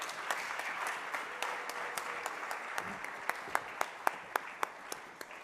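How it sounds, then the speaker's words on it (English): An audience applauding panelists at an intergenerational dialogue event, a dense steady patter of many hands with a few loud, crisp claps standing out close by as it continues. "let's give our panelists a huge round of applause"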